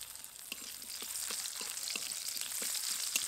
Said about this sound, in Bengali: পেঁয়াজটা একদম বাদামি করে ভেজে নেব।